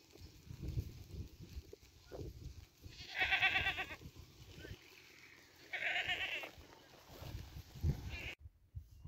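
Sheep loose in a lucerne field bleat in two drawn-out calls from nearby, over a busy outdoor background of rustling and soft livestock noise.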